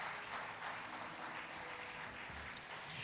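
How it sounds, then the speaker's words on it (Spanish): A church congregation applauds during a Spanish-language sermon, with steady, fairly faint clapping and crowd noise that continues evenly from start to finish. "Si le va a dar un aplauso, déselo."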